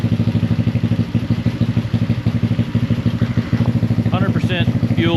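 Honda Ruckus NPS50 scooter engine running after a fuel pump swap, a loud steady putter close by with an even pulsing rhythm, while a voice speaks briefly over it.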